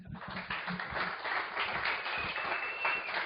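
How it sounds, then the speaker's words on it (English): Audience applause for a speaker at an evening tech talk, a steady wash of many hands clapping at moderate volume for several seconds without pause. "A round of applause, please."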